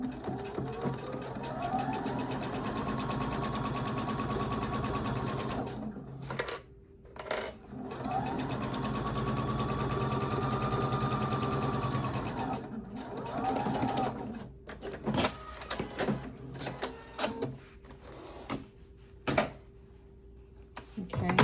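A sewing machine stitches the side pocket seam of a pair of pants, running in two long steady bursts with a pause between them, followed by clicks and handling noises. Someone talks quietly in places.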